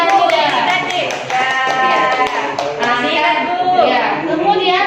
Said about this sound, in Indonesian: Berikan aplaus kepada yudikatif.